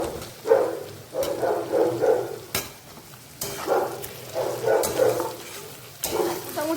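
Fried potatoes go into a hot pan of simmering spiced masala and are stirred, bringing bursts of sizzling and scraping that rise and fall in repeated waves, close and fairly loud with brief quiet gaps.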